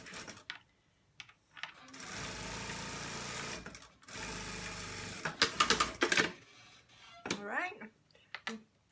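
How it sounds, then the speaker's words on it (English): A sewing machine hems a fleece hoodie in short rapid bursts of rattling stitching, with pauses and fabric handling sounds in between. "I'm going to sew everything in red so you can see the contrast."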